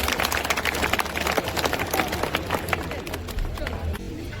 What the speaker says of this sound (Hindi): जोरदार तालियों से इनका स्वागत करें।